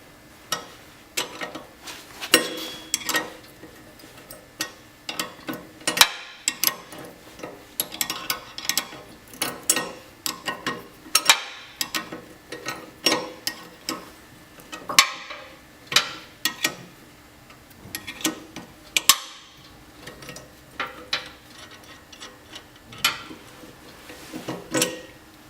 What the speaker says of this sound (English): 14mm ring spanner we can now release the nut at the top of the blade bolt